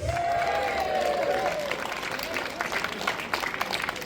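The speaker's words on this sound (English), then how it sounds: "So can we give all of our clay workers and all of our Cornish women a big round of applause," A St Piran's Day parade crowd in St Austell claps in a steady spatter of applause that fades and thins out, with a voice heard at the start.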